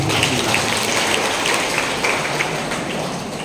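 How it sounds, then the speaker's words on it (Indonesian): A church congregation applauds a woman during a sermon, a dense, even wash of many hands clapping at once, loud and continuous, fading slightly toward the end. "Tepuk tangan untuk Ibu"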